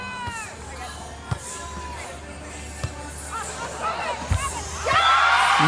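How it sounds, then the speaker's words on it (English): Florida State Seminoles fans along a back fence at a women's beach volleyball match against LSU, a busy crowd murmur with scattered shouts and cheers, a few sharp ball thumps, and a louder swell of cheering near the end. "Seminoles along that back fence, cheering Chacon on as she gets ready to serve."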